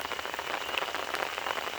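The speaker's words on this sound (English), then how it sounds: "just as I say that, it starts raining even more" Steady rain falls and patters on surfaces outdoors, a dense hiss of drops that holds fairly quiet and constant throughout.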